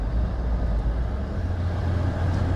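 A 1973 Citroen DS 21 D Super 5 with new front comfort spheres driving along a road, a steady low engine and road rumble heard from inside the cabin, continuous and fairly loud.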